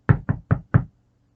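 Four quick, even knocks strike the side of a canoe on a lake, hollow and close, followed by silence.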